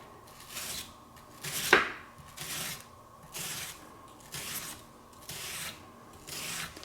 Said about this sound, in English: I'm just going to slice down the front, and I'll end up with my 1/4 cup of red onion